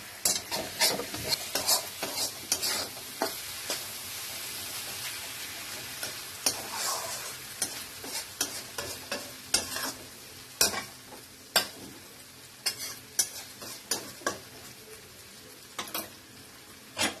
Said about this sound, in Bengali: মাছটা সুন্দর করে ভাজা হয়ে গেছে তেলও ছেড়ে দিয়েছে